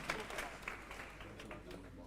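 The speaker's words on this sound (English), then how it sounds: "May we please have another round of applause for these young ones." An audience at an Africa children's summit claps in a faint, steady patter of applause lasting a couple of seconds, with no voices on top.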